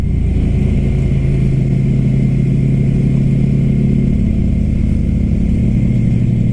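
A Ducati Scrambler Flat Track motorcycle engine drones steadily while riding, a loud low rumble heard close up that shifts slightly in pitch as the throttle changes, with no voices.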